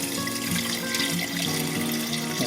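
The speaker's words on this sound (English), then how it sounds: "Ahí va el agua." Water pours steadily from a tap into a cooking pot holding fresh beans for soup, a continuous close splashing flow with no talk over it.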